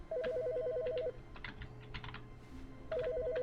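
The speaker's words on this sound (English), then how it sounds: "Wait, what? The phone?" An electronic telephone rings in The Stanley Parable video game, two bursts of rapid trilling at the start and end with a quiet gap between, sitting over a faint background hum.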